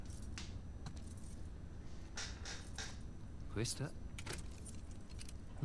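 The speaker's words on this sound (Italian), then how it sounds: "Vuoi provare le chiavi?" Keys jangle in The Last of Us Part II, with several short metallic jingling bursts, the loudest near the middle, over a quiet background. A voice speaks briefly.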